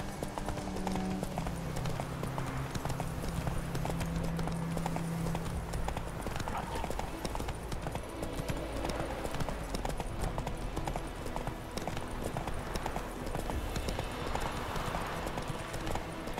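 Horse hooves clip-clop steadily at a walking pace in The Witcher 3 video game, with a rider's voice speaking briefly over the hoofbeats and a low ambient game background.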